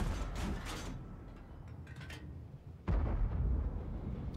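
Booming tank cannon shots in World of Tanks, with the E-25 and a Tiger in the battle: a heavy blast, mechanical clanks and creaks, then another loud low thump, without talk.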